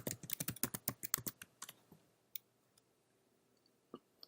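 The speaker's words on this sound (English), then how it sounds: "I just want you to type in Page Builder." Quick keystrokes on a computer keyboard form a close, rapid run of clicks, then slow into a few scattered taps and a final isolated key press amid quiet.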